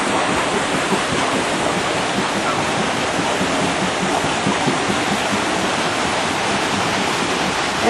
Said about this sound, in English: And your sluice way, which controls the water and controls the speed of the wheel.